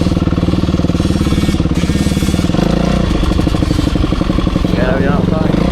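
A motocross motorcycle rides through mud at the first ride of 2025, its engine chugging loud and close with shifting pitch. A voice talks over it.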